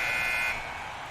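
The end-of-period buzzer in the hockey video game Slapshot sounds as a loud, steady electronic tone. It holds for about half a second, then drops into a softer, lingering ring over an arena wash.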